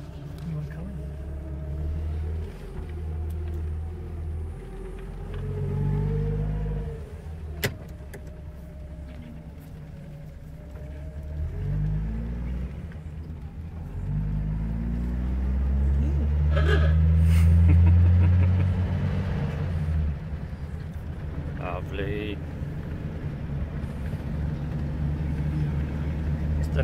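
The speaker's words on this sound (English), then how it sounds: "A nice drive through Glenbrook in the 38." A 1938 Daimler car engine driving through the streets of Glenbrook, a low steady rumble that rises and falls with gear changes and acceleration, under ongoing conversation.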